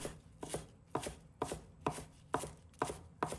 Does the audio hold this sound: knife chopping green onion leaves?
yes